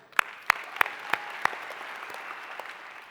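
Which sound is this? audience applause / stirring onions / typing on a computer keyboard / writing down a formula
audience applause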